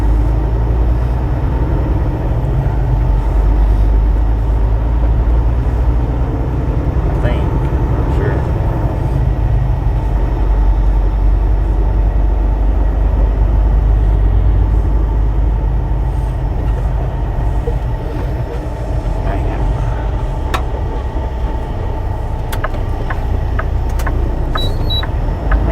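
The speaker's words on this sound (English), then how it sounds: "Big truck." A big truck rolls past on a road beside a double turn lane, its heavy low engine rumble and tire roar filling a long, steady stretch.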